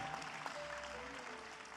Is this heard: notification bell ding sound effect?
no